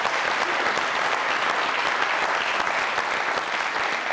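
Steady, dense applause from a large crowd, loud and continuous throughout without any break or speech.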